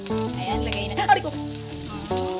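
A small, medium-sized onion hits a hot pan and sizzles as it starts to fry for a tofu and bitter gourd dish, a close crackle with stirring clatter under strong tonal background music.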